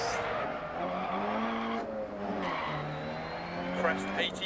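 Rally car from DiRT Rally with a tire going flat, its engine droning steadily with rising and falling pitch while tires scrub and squeal on the loose surface, continuous and fairly loud throughout.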